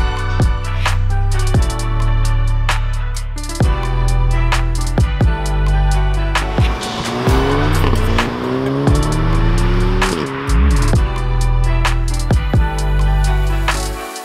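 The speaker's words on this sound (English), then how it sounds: "it is time to see how quickly this thing can go from 0 to 60. And we're going to do that by using launch control" A Volkswagen Golf R MK7.5 makes a launch-control 0 to 60 run. It is loud and close, the engine revving in repeated rising sweeps through gear changes, with tire squeal mixed in.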